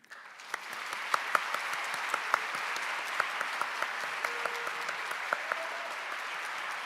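Sustained audience applause at an academic music conference keynote, a dense even wash of many hands clapping with a few sharper claps popping out, steady and fairly close for the whole stretch.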